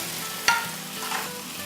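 Beef and vegetables stir-frying in a hot pan for Mongolian beef give a steady close sizzle, opened by one sharp clack as food is tossed in, then a brief rise in crackling.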